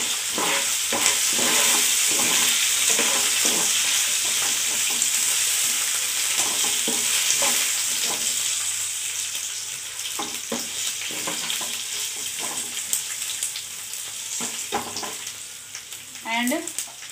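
Garlic and curry leaves frying in a pan for a green chilli chutney, a loud continuous sizzle with frequent scraping stirs of a spoon, close up and easing slightly toward the end.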